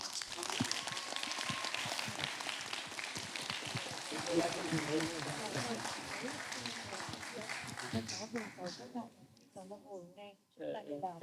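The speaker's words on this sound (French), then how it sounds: "On va applaudir." Applause from a school audience at a veterans' testimony event, fairly faint mixed clapping under overlapping talk, fading out as voices take over toward the end.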